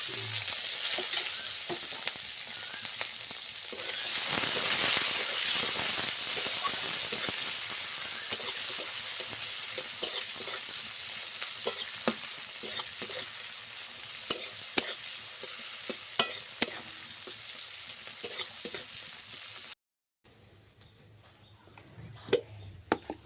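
Chopped onion fries in hot oil with a cinnamon stick, cloves and cumin seeds for mushroom masala, a continuous close sizzle broken by repeated stirring scrapes and clinks, louder around the fifth second, then a brief cut and quieter sizzling.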